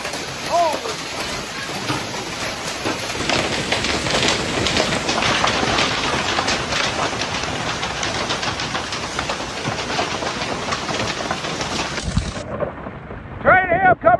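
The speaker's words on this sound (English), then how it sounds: "Train hail coming into OKC! Wind blows!" A massive hailstorm batters Oklahoma City, a loud, continuous roar of pounding hail and gusting wind with rumbling undertones that suddenly drops away near the end, where a voice speaks briefly.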